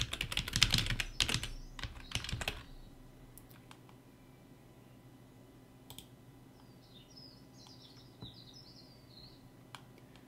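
Quick bursts of typing on a computer keyboard as a wallet password is entered, with close clicking for about two and a half seconds, a few stray taps afterward, and faint birdsong in the background.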